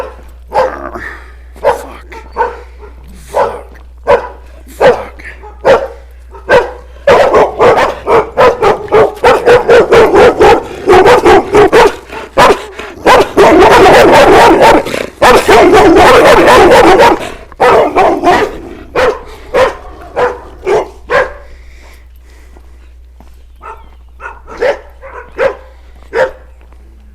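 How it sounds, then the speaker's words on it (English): Several dogs bark repeatedly outdoors in a town, loud and close. Sharp barks build into a dense, continuous frenzy of barking and yipping in the middle, then thin back out to scattered barks. "Barking dogs are really annoying."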